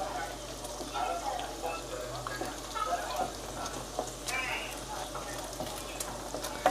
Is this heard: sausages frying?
yes